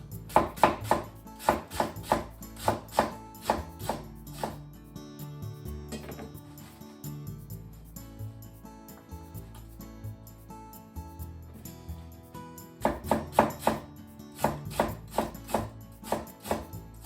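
A knife chops napa cabbage into 1-inch slices on a board, with quick, evenly spaced, crisp strikes. The chopping is close and loud in bursts at the start and end, with a quieter stretch of faint kitchen clatter between.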